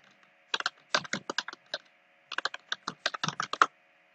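Rapid typing on a computer keyboard, close and crisp, with two quick bursts of clattering keystrokes separated by a short pause, no voices.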